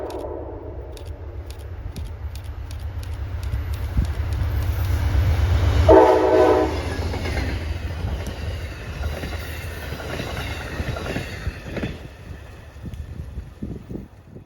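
Amtrak 449 passenger train led solo by P42DC locomotive 100 in midnight blue livery passes close on the MBTA Worcester Line at Grafton, a loud steady rumble with rhythmic rail clatter, building to a peak midway, with a brief horn blast.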